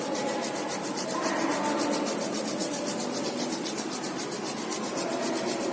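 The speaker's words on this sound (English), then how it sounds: "Everyone, rub your hands" A group of people rub their hands together, a steady, continuous dry rasp of skin on skin holding at an even level for several seconds with no talking.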